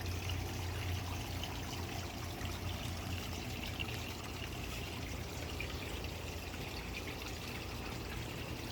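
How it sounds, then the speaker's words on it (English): Steady, unbroken rush of moving water from a small pump in a koi pond, a continuous splashing trickle at an even level with no voices. "another small pond pump on this side"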